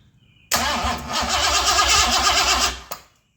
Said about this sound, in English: Listen to how fast this thing turns over now.